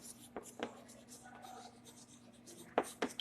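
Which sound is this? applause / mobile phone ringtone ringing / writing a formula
writing a formula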